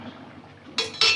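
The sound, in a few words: lid being removed from a pot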